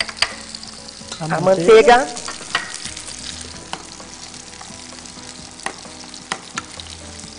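Leeks are stirred into a buttery sauce in a pan for a salmon dish. A burst of sizzling and scraping comes early, then settles into quieter bubbling with occasional sharp utensil clicks. A voice speaks briefly.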